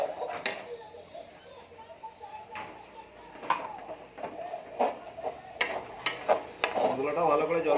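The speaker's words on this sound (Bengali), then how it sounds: "মশলাটা ভালো করে জল দিয়ে কষিয়ে দেবো" Spice paste being sautéed with water for chicken curry: a spoon stirs and scrapes the pot in irregular knocks over a soft bubbling sizzle, with a voice talking in the background.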